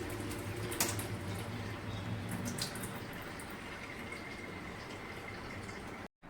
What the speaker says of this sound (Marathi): तर आता परत मी पाणी टाकून घेतलेलं आहे गव्हामध्ये आणि हा गहू मी परत आता धुवून घेते